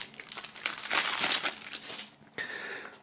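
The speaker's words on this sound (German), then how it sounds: "das Album aus der Folie." Plastic wrap is pulled off a CD album in its jewel case, producing close, continuous crinkling and rustling that swells, dips briefly and picks up again.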